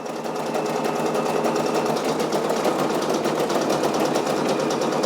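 A Brother SE625 embroidery machine stitches a patch, its steady rapid needle clatter and motor whir running loud and continuous from start to finish, close up with no talking.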